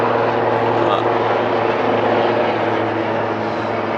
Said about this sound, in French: Attendre que l'hélicoptère décolle.